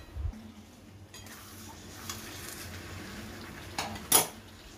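Chicken korma being stirred in a cooking pot, with quiet scraping and a couple of sharper metallic clinks of a utensil against the pot near the end, fairly faint and without talk.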